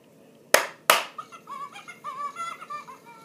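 Two sharp hand claps, close and fairly loud, about a third of a second apart, followed by a playful chirping toy tone.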